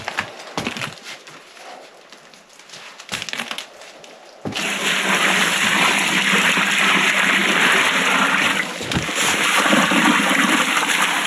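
Water poured onto sand and quicklime for hot-mixing lime, starting with scattered crackles and trickles, then a loud continuous rushing pour with gritty crushing texture that keeps going to the end.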